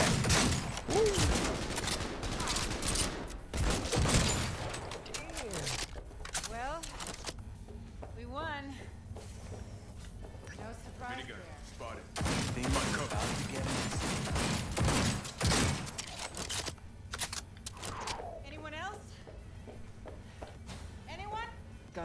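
Turret gunfire in the video game Cyberpunk 2077, with dense bursts of shots and impacts in the opening seconds and again midway, mixed with game effects and someone talking over much of the action.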